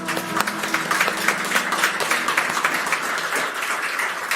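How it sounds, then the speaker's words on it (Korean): A church congregation at a Sunday New Year's Day service claps for the children and youth being promoted, a moderate burst of applause that stays fairly even throughout with a faint voice beneath it. "축복하고 기도하는 마음으로 박수 부탁드립니다"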